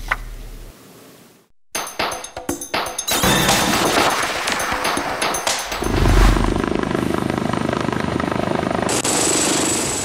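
A fire rescue helicopter lands in the yard of a university hospital, its rotor thudding loudly and steadily, close by, preceded by a few clanks and bumps.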